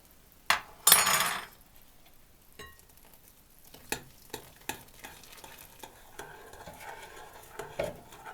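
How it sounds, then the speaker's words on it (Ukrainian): Pancake batter made with oil and boiling water is stirred in a bowl, giving a few sharp clinks of the utensil against the side and a brief splashing burst, then soft scraping strokes, close and moderately loud with no talking. "І гарно перемішати."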